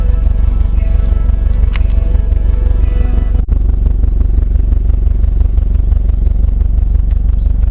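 A 2002 Subaru WRX STi GDB Prodrive Edition with an aftermarket exhaust idles with a loud, steady, throbbing burble close by, interrupted once by a brief click partway through.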